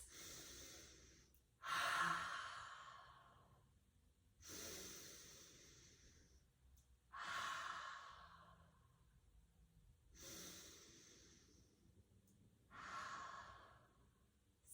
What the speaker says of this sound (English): we'll take 3 of our big full breaths here together, our buffalo breaths